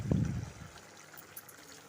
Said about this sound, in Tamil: தண்ணி ஒரு 1/2 கப் ஆட் பண்ணிக்கலாம்.